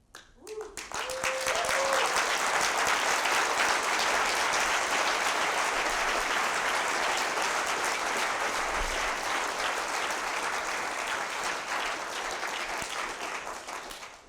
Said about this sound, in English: I thank you for the applause